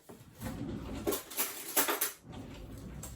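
A spoon stirring salt into a glass of water for an egg-floating experiment, giving soft clinks and scraping taps against the glass in a few close, uneven bursts.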